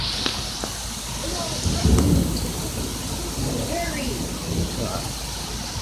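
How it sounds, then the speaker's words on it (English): A heavy thunderstorm brings steady pouring rain and a deep rolling rumble of thunder that swells near the middle, while a dog or other animal whines faintly in the background. "Crazy storm."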